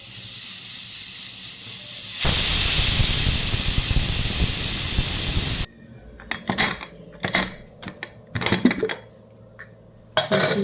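A pressure cooker on a stove while dal cooks, giving a loud, sustained, close steam hiss for several seconds that cuts off abruptly, followed by scattered clinks and metal handling sounds.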